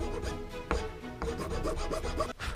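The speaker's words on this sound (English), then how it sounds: "Fairly coarse file, because it is wood." A coarse file rasps back and forth across a wooden hammer handle for a brass hammer, with steady close strokes in a quick rhythm and no talking.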